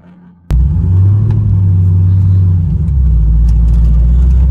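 A car engine at an auto show cranks and fires abruptly, then settles into a loud, steady, deep idle rumble close by.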